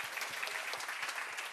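A church congregation applauds after a healing prayer, a faint, distant wash of many hands clapping that stays even and continuous for a brief moment.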